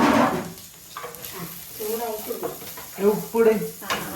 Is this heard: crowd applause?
no